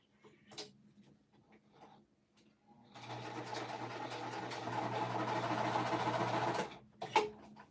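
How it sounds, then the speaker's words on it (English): A sewing machine stitches a line through cotton quilt fabric, a steady close hum lasting a few seconds after scattered light handling noises, then stopping. "I'm just gonna run another line of stitching"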